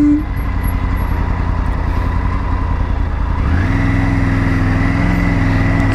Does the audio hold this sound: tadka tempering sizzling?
no